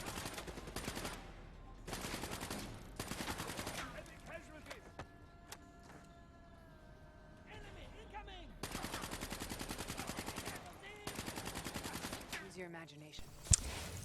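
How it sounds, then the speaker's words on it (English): Black Ops 3 gunfire on Realistic difficulty in the New World mission: repeated bursts of rapid automatic fire, loud and close, separated by short pauses, with someone talking over the action. "Doesn't matter if you're shooting through the wall, you will get a few wall bangs in there, so kill them and move on."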